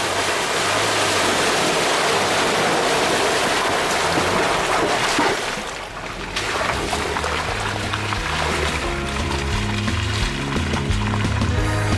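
Fast-moving water of the Teklanika River roars in a dense, continuous rush, loud and close, with no voices over it.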